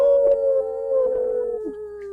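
People imitate a wolf howl at a full moon, producing one sustained, wavering howl that holds steady, dips slightly and then trails off, fairly close and loud with no other sounds.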